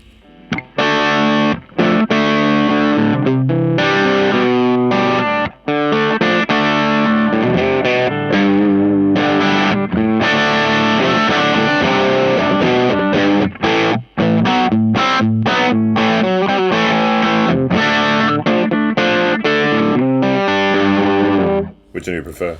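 An electric guitar with humbuckers plays through a Crazy Tube Circuits Killer V vibrato and overdrive pedal in its modified mode. Loud, continuous, driven chords and riffs run with a wavering vibrato and only brief gaps.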